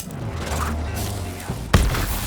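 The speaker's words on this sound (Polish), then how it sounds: "O, taki mały wybuch." A short, sharp blast with a deep thud near the end in Borderlands 3 on PC, following a steady low synthetic drone of game sounds.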